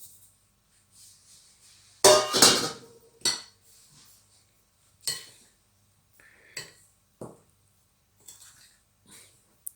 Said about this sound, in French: On mélange le sucre avec la farine.